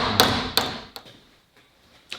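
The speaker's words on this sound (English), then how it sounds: "A couple of words about hammer forming over a form or a tool" Sharp metallic hammer blows form a sheet-metal repair panel over a form at irregular intervals, a few loud hits then softer taps, ringing briefly and fading into quiet.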